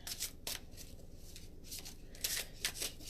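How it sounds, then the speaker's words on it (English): A deck of cards being shuffled: several quick crisp riffles and rustling bursts, close and fairly quiet, with short pauses between them and no talking. "I'm going to put that back in the deck and shuffle these"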